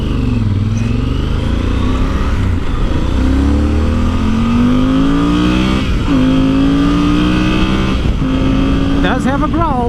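A Yamaha Super Ténéré motorcycle engine growls through repeated rising revs as gears climb, loud and close over wind rush, with a rider talking throughout.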